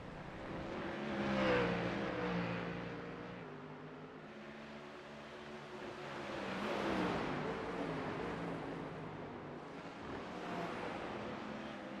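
Ford Mustang race car engines circling the Roval track, a sustained roar that swells and fades as the cars accelerate, pass and pull away, with rising and falling engine pitch, moderately loud.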